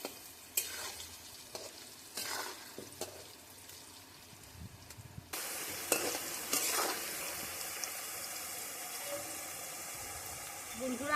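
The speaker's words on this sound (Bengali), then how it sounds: "তেলটা গরম হয়ে গেছে, এবার আমরা কড়াইয়ে আলুটা দিয়ে দেব।" Potatoes for a meat curry drop into hot oil in a kadai. Quiet stirring clatter gives way partway through to a sudden loud, steady, close-up sizzle that holds to the end.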